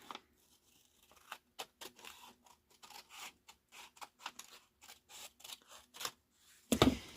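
Scissors snip through craft material in a home craft room, a series of short crisp cuts at an uneven pace, fairly close but quiet, ending in a louder burst of handling noise.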